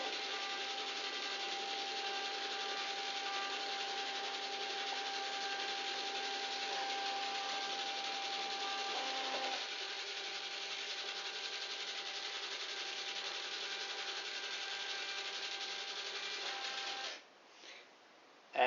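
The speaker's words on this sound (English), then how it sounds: "So I'm printing 2 to that printer" Two Citizen CL-S621 thermal printers printing number plates give a steady mechanical whirring and rasping hum that runs continuously, shifting tone partway through, then stops with a few short clicks at the end.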